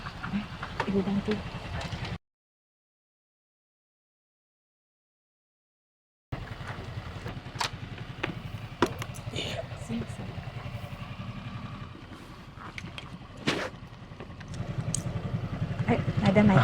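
A new motorcycle's engine idles steadily, with the sound starting and stopping once, while people talk nearby over the running engine.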